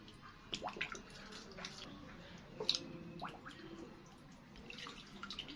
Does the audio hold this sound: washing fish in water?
yes